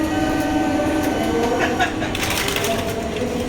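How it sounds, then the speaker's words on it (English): A Thameslink train runs along the line with a steady rumble and rattle of wheels and carriage, with an automated announcement voice heard over it. "This train is ready to depart."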